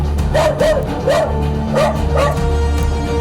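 A pet dog barks loudly nearby in a burst of about five sharp woofs, then falls quiet for a moment against a low background rumble.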